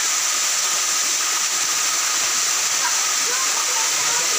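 A roughly 40-foot waterfall at Kampung Makatip in Tambunan pours in a steady, loud broadband rush that holds unchanged throughout, close to the water.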